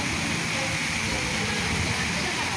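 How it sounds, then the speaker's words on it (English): A large outdoor waterfall at Dania Pointe, South Florida, roars as a loud, steady rush of falling water, a dense unbroken hiss close by throughout. "Let me give you some more of the waterfall."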